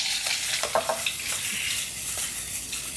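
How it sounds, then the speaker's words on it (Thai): Pork balls frying in hot oil in a home kitchen, a steady bright sizzle with crackling and occasional stirring clatter, close and continuous with no talking. "แต่คุณยายอยากทอดให้มันมีความกรอบนิดหน่อยนะคะ"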